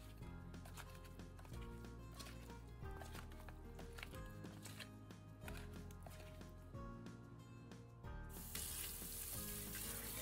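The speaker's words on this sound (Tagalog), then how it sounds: "Hugasan natin ang chicken wings ng mabuti with running water." Chicken wings are rinsed under running kitchen tap water, a steady faint splashing wash with handling noises, the flow growing louder and hissier near the end.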